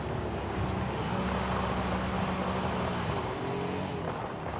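A 2009 Mercedes-Benz SL 65 AMG Black Series engine drones steadily in Forza Horizon 5, a loud continuous rumble with a rising, revving pitch as the car drives, no talk over it.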